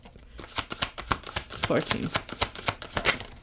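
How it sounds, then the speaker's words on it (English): Tarot cards shuffled in quick repeated riffles and slaps, a steady rhythm of sharp papery bursts running throughout while a voice counts aloud over them. "Let me shuffle 13 more."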